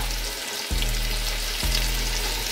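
Chicken pieces fry in a pan of butter and oil, a loud, steady sizzle with two brief bursts as the chicken is stirred, and no voices.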